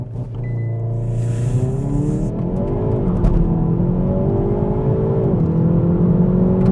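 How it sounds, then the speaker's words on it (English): A 2022 Hyundai i30 N with DCT gearbox pulls away hard from a standstill, its engine note climbing steadily through a long, loud, continuous run of acceleration heard from inside the cabin, with no talking. "Foot on the throttle."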